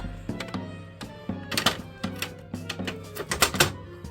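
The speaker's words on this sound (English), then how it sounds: "Add the lid back onto the tank." A small aquarium tank's lid is set back in place, producing a series of close, sharp knocks and clunks that come in irregular bursts, busier toward the end, with no talking.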